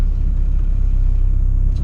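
A built turbocharged Honda Civic EG GSR hatchback with a B18C1 engine cruises steadily, its low engine drone and road rumble holding even and loud throughout, with no talking.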